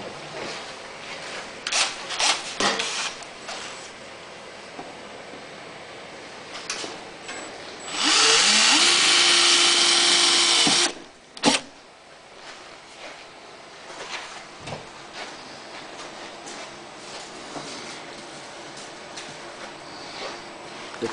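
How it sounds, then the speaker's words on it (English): A power drill boring a 1/8 inch hole whirs for about three seconds at a steady pitch, surrounded by clicks, taps and handling noises before and after. "I'm going to go ahead and drill a 1/8 inch hole"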